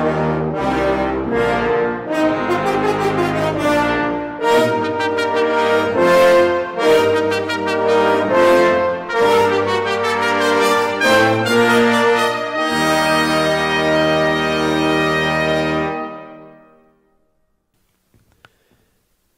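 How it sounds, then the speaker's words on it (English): Orchestral brass section of trumpets and horns playing together, a bright sustained chordal passage with shifting notes that swells and then fades out to silence. "Together, the brass section sounds like this."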